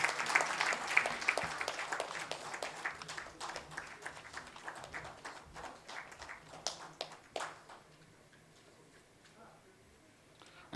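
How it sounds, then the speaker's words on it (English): An audience at a ceremony claps loudly in a dense burst of applause, then the clapping thins out and fades to a quiet room within a few seconds. "I request everyone to please give a huge round of applause."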